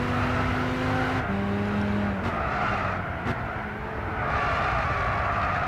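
Alfa Romeo TZ3 race car engine in Gran Turismo 6, a loud, continuous engine drone with pitch steps as it shifts and slight dips where the throttle eases, heard alone.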